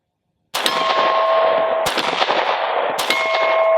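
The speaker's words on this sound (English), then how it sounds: "now we're shooting the last 10 rounds of the NATO spec ammo" A Glock 43x pistol firing 124 grain NATO spec PPU 9mm rounds, three sharp, loud, close shots spaced about 1.3 seconds apart, each with a bright metallic ring that decays into the next.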